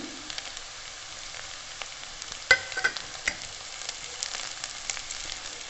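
Onions frying in a pan for egg bhurji, with soft sizzling throughout and a few sharp scraping clicks from stirring clustered near the middle; fairly quiet, no voices.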